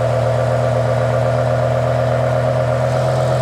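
A BMW E60 M5 engine idles steadily up close after a voltage regulator replacement, a constant loud hum with a low even drone and no voices.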